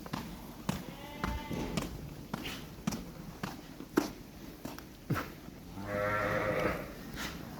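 Sheep bleat repeatedly in a pen, with several wavering cries and scattered knocks and footsteps, while someone talks intermittently nearby and a noisy wash of sound rises near the end.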